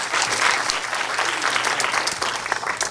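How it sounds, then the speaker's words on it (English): Room audience at a product marketing summit in San Francisco applauding after a presentation: steady, moderately loud clapping from a modest crowd throughout, with no talk over it. "Let's give them a round of applause real quick."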